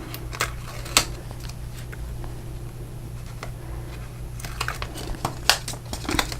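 Scissors snip and peel an adhesive backing strip from a paper crafting panel, giving a few scattered close crinkles and small clicks over a steady low hum, with quiet gaps between.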